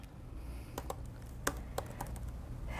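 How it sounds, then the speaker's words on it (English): Quiet keystrokes on a computer keyboard: a handful of light, irregular taps over a steady low room hum. "So I'm going to type in"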